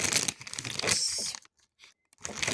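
A black plastic gift bag handled and crinkled up close, loud crackling rustles for about a second and a half, a short quiet gap, then more crinkling.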